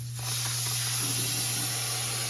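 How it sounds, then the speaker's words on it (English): Sound insulation spray foam hisses out of a can in one continuous, fairly close spray that starts abruptly and holds steady, with no talking over it. "sound insulation spray foam"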